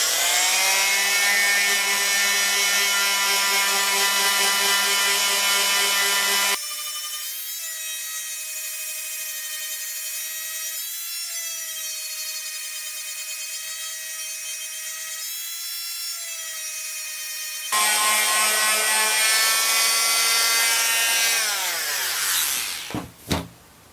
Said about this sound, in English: I'm just going to use my little oscillating tool here with a sanding pad attached to it.